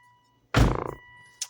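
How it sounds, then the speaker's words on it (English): The driver door of a Volvo XC90 opens with one solid, close latch thunk and a short rattle, followed a moment later by a brief electronic beep from the car. "right now, I am going to open my driver door"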